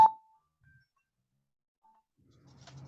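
A mobile phone gives one short, sharp beep at the start, followed by near silence, a couple of faint tones and soft rustling toward the end.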